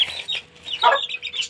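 Aseel chicks cluck and peep close by, a quick run of soft high chirping calls with no talking.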